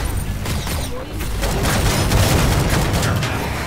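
A sharp grenade blast followed by a burst of rapid gunfire crackles in a chaotic Killing Floor 2 battle, with a voice faintly underneath.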